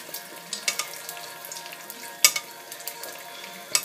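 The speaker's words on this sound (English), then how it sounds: "you take oil for about 30 seconds and just pour it over the egg" An egg fries in a pan while hot oil is spooned over it, giving a steady soft sizzle with crackling pops and a few sharper spits, close and alone without talk.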